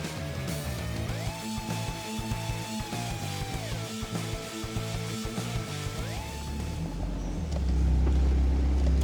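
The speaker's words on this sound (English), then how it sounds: "let's take the car for a ride, drive around the block" Car driven around the block after brake work, engine droning steadily with several rising and falling gear shifts, then a louder rumble of road and wind noise near the end.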